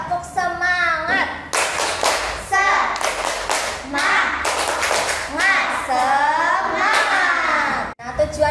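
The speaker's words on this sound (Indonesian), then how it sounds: "Tepuk semangat." A fifth-grade class does a rhythmic spirit clap: sharp, close group claps in a patterned beat, mixed with children's voices chanting and shouting along throughout.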